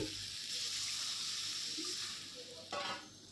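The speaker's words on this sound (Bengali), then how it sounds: "এবার আমরা পরিমাণ মতো জল ঢেলে দেব" Water pours into a sizzling Bogo fish curry, producing a quiet, steady hiss with a brief louder splash toward the end.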